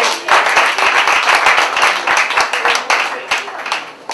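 Audience at a New York City poetry slam championship bursting into applause after the poets, a loud, dense stretch of clapping that rises and ripples for several seconds, with some voices mixed in.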